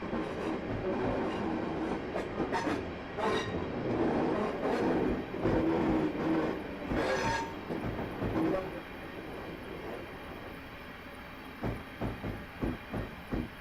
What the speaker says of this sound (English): At this point I'm just allowing the train to coast